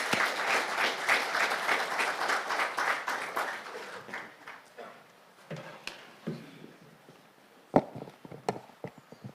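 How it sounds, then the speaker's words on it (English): An audience at a formal education forum applauds to welcome a minister, a brisk round of clapping that trails off into scattered claps, footsteps and small knocks. "We can welcome him by applause."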